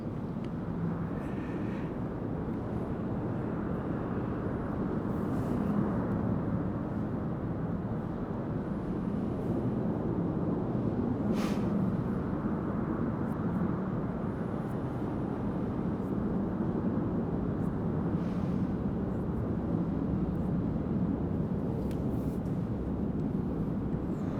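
A jet aircraft taking off overhead: a broad, steady roar that fills the whole stretch at moderate distance, with no talking over it.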